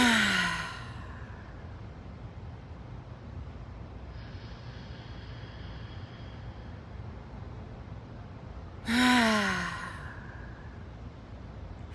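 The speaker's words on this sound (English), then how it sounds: "And I want you to take a deep breath in." A person draws a slow, deep breath in during a guided breathing exercise, audible as a soft airy rush at the very start and again near the end, with a long quiet stretch of faint room noise between.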